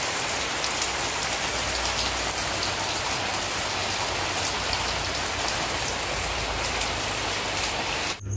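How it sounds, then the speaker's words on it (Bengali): Steady, heavy rain pouring down, a dense hiss of drops hitting surfaces without pause, cutting off abruptly at the very end. "এই যে দেখতে পাচ্ছি বৃষ্টি হচ্ছে"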